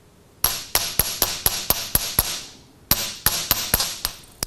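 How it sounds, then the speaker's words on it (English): A steel chasing hammer strikes a copper washer on a bench block in sharp, ringing metallic blows, a quick run of about nine evenly spaced hits, a brief pause, then another rapid series, loud and close. "pick up my chasing hammer. And first thing I'm going to do is just hammer out the whole copper washer"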